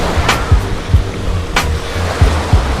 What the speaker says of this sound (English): The waves are pretty much like sea waves, but you can bob about in rings.